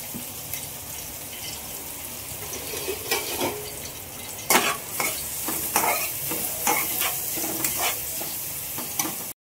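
Onion sizzles in a pan with asafoetida and cumin in the oil, a constant crackling hiss punctuated by repeated scraping strokes from a stirring spoon, close and moderately loud.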